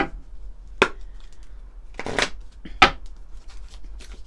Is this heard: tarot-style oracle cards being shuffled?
yes